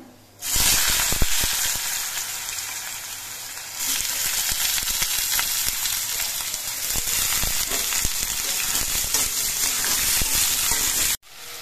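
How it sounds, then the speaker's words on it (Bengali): Potatoes dropped into a pan of hot mustard seeds set off a loud, steady sizzle and crackle that runs unbroken for several seconds, with light stirring clicks and no talk. "এবার এই সর্ষেটা একটুখানি ভাজা হয়ে যাওয়ার পর এর মধ্যে আলুগুলো দিচ্ছি।"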